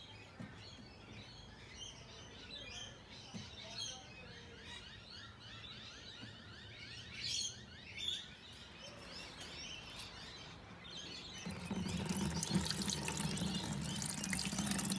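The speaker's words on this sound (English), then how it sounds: "We have the system filled with water. Everything seems to be flowing nicely." Water pours steadily into the tanks of an IBC aquaponics system, filling the grow beds, sump and fish tank outdoors, with birds chirping nearby; the rushing flow grows much louder and fuller toward the end.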